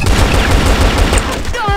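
Rapid, continuous gunfire in a ranked match of a shooting video game, loud and dense with overlapping shots throughout, under faint voices.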